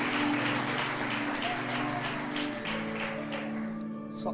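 A church congregation at a celebration service applauds, a sustained close clatter of clapping over soft music, easing slightly toward the end.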